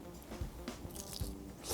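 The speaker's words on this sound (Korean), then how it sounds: "와, 바삭한 소리가." Someone bites into crispy deep-fried Chinese restaurant food, giving a few close, sharp crunches spread over a short moment with no talking.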